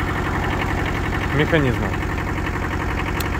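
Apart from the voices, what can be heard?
Kubota KJ11 Japanese mini tractor engine idling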